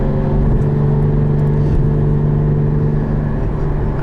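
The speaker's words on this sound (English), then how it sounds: "Close the Valvetronic exhaust." A 2016 Porsche Cayman GT4 engine hums at a steady, low idle-like drone with its valved exhaust closed, smooth and muted with no revving, heard close up.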